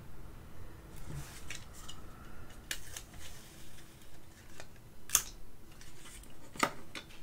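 Removable Scotch tape being pulled off the roll and torn, a series of close, sharp crackling rips and small clicks spread across several seconds, with two crisp snaps standing out.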